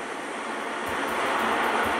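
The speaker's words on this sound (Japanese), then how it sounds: "2番線から泉中央駅電車発車します。" Commuter train at a station platform, a steady broadband rumble and hiss of the train that grows slightly louder, with faint rhythmic thumps as it moves.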